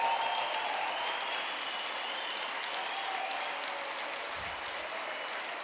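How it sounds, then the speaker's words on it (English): A large conference audience gives a sustained round of applause for Special Olympics athletes, continuous dense clapping heard at a moderate distance, slowly easing over several seconds. "stand up again because you deserve another round of applause"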